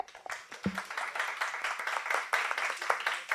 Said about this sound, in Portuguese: muito obrigado, professor André, e uma salva de palmas.